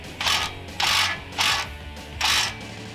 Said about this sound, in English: And then you'll take a 18mm socket right here.